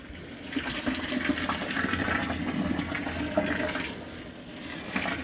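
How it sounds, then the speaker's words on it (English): Cold tap water splashes and gushes steadily into a pot of salted water being readied for boiling shrimp, a continuous close pouring rush with no talking. "I'm just literally knocking it back with some fresh water, cold water obviously, because it's out of the tap"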